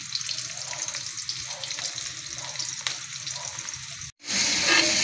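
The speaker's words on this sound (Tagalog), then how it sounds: "tayo nagigisa ng spaghetti" Spaghetti sautéing with soy sauce in a pan at a home Christmas meal: a steady, close sizzle of frying food that breaks off briefly near the end, then returns as a louder, brighter hiss.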